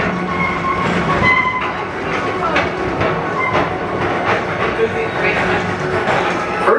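The Walt Disney World PeopleMover ride vehicle at Magic Kingdom, Orlando, glides along its track with a continuous rumbling roll and light rhythmic clacks, while recorded narration plays over it throughout.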